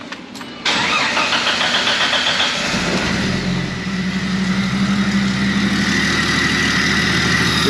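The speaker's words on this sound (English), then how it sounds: "Restarting the Jeep engine." A 1995 Jeep Wrangler with the 4.0 engine cranks briefly, catches and settles into a steady, loud idle close by.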